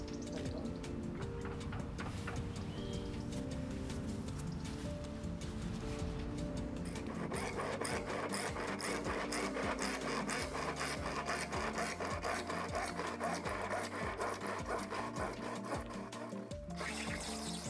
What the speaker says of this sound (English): Bevel the edges of the new pipe